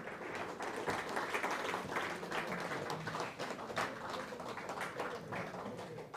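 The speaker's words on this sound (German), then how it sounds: "ist auch schön, wenn man Applaus kriegt" Audience applause at a stage show, a dense, steady wash of many hands clapping for about six seconds at moderate level, with a few voices mixed faintly underneath.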